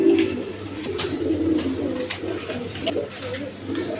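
Soft, repeated cooing comes from pigeons at a pigeon seller's, including a red Rajgolla pigeon, with low calls rising and falling continuously nearby.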